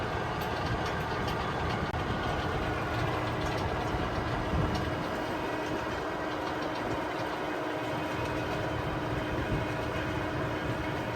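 A tractor with an auger attachment runs steadily outdoors, its engine giving a continuous low, rumbling drone with a faint knocking texture that stays constant throughout.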